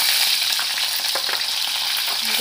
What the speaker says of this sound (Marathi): लसूण घालून घेऊया।